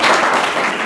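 A studio audience breaks into loud, steady applause for a contestant on a school quiz show, a dense wash of clapping filling the whole short moment with no talking over it.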